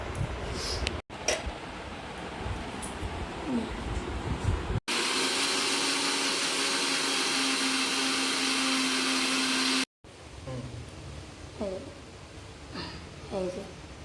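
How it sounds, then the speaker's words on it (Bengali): Mixer grinder whirring steadily as it blends payesh ingredients, a loud continuous motor drone lasting several seconds between quieter stretches of kitchen noise. "এটাকে মিক্সি করে নেব"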